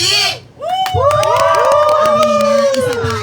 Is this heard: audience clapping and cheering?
yes